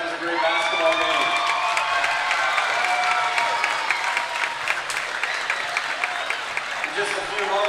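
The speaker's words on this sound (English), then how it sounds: "have a round of applause for both teams" An audience applauds after a high school boys varsity basketball game in a gym, with dense sustained clapping, some cheering and shouts, and talk mixed in.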